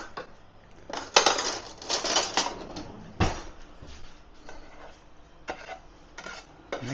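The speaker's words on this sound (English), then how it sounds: "Bring them out and give them a bit of a stir." Eggs are stirred in a pan outdoors, making intermittent scraping and clinking bursts of utensil against metal, with a soft cooing bird in the background.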